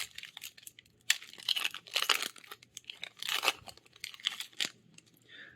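A foil Innistrad: Crimson Vow Magic card booster pack is torn open up close, with crisp bursts of ripping and crinkling wrapper in several separate pulls. There is no speech.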